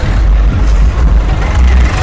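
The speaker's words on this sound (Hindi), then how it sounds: "दिल्ली की सड़कों पर ट्रैक्टरों की रैली" Low, steady engine rumble from tractors driving in a rally on Delhi roads near Mukarba Chowk on 26 January, loud and continuous for two seconds, with no voices.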